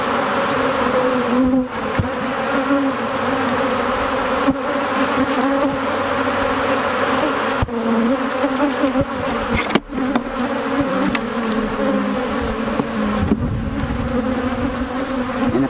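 Honey bees buzz loudly and continuously around hive frames during a honey harvest, a close, dense droning hum with a few brief knocks and bumps from handling the frames.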